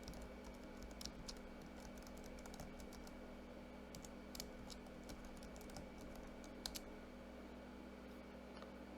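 An email address is typed on a computer keyboard in a quiet room, a soft irregular patter of keystrokes with occasional sharper clicks over a faint steady hum.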